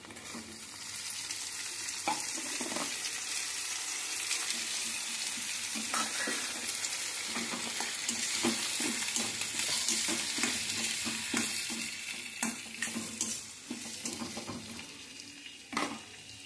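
Onions, green chillies, ginger-garlic paste and tomatoes fry in oil with cumin, giving a continuous sizzle with frequent clinks and scrapes of stirring in the pan, and no voices.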